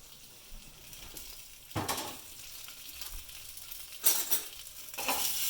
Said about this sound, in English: We're going to add our garlic in